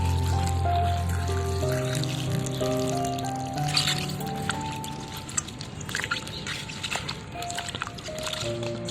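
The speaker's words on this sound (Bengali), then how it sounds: "এবারে কেটে রাখা আমগুলোকে ভালো করে পরিষ্কার জল দিয়ে ধুয়ে নেবো" Cut mangoes are washed in clean water in a bowl, with steady pouring and trickling, soft splashes and squishes of fruit being rubbed by hand, close and continuous.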